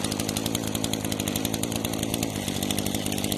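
A power trimmer whines steadily and loudly while cutting grass along an edging, a continuous buzzing engine drone close by with no talking.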